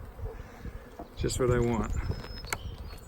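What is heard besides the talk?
honey bees buzzing in a beehive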